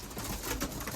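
Racing pigeons, older males among them, coo softly in a loft as birds come back from a race. Brief low cooing sits under a noisy, close-up background.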